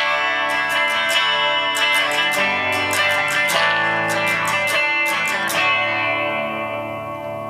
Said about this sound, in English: And we'll add a little maybe reverb